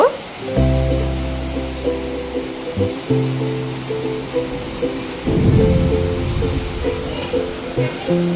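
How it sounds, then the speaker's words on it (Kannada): The year's first rain pours down steadily with low thunder rumbling beneath it, a loud continuous wash lasting several seconds and overlaid by sustained tonal droning. "ಇನ್ನು ಅದೇ ಟೈಮ್ಗೆ ಮಳೆ ಕೂಡ ಬೀಳ್ತಿತ್ತು, ಇಲ್ಲಿ ನೀವು ಅಬ್ಸರ್ವ್ ಮಾಡ್ಬೋದು"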